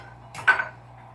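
Kitchen utensils and dishes clink briefly while being sorted by hand, a couple of close, light metallic and ceramic knocks in a quiet room.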